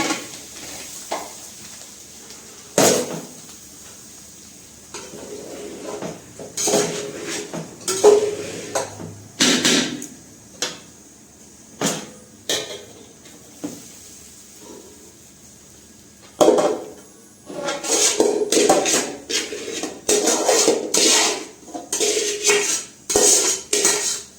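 Boiled rice being mixed into a pan with a spoon: repeated close metallic scrapes and clanks of the spoon against the pan, in irregular bursts with quieter gaps, over a faint background sizzle.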